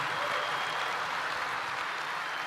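An audience at a church congress claps steadily, a dense wash of applause at moderate volume with no voices on top.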